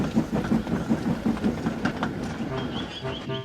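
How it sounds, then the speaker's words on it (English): A steam engine train from Thomas & Friends puffs past in a rhythmic series of chuffs and clickety-clack wheel beats, then fades out as a brief whistle-like tone and a bell-like note come in at the end. "Percy waited on the siding until Henry had steamed by"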